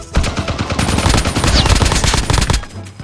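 Rapid automatic gunfire from the Call of Duty Mobile video game, loud and close, sustained bursts of dense shots for about two and a half seconds before stopping abruptly.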